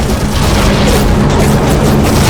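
Ship exploding as it sinks in the WWII game Heroes of the Pacific, a short, loud, dense rumbling blast that stays heavy throughout with no voices.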